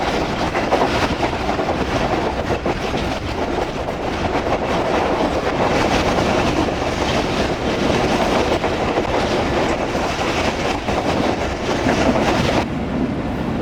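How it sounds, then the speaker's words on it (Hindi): Tezgam express train rolling through open country toward Rahim Yar Khan station on a long curve, a steady loud rumble with continuous clickety-clack from the wheels, heard from inside the carriage with no talk. "ट्रेन हमारी अप्रोच बना रही है रहीम मियां खान रेलवे स्टेशन पर एक लंबा कर्व लेते हुए"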